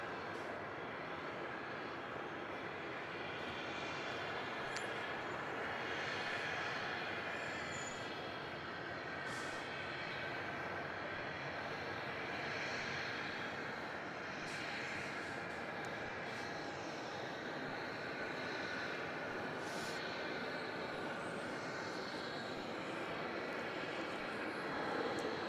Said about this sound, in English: You have Jetstar 32, a 321 Neo in from Denpasar.